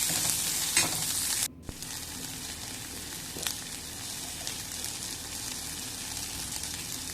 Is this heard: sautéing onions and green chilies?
yes